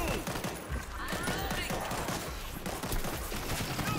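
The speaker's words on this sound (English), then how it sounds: "I set a stationary gun here!" A stationary gun turret in the zombie shooter World War Z fires in a rapid, dense burst of shots, loud and continuous throughout amid other game noise.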